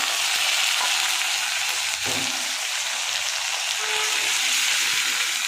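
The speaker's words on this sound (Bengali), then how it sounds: "আদা রসুন পেস্ট দিয়ে একটু এই নাড়াচাড়া, একটু আদা রসুনটা একটু ভাজা ভাজা করবো" Ginger garlic paste frying in hot oil after onions, a loud, steady, dense sizzle that continues throughout with a faint stir partway through and no talking.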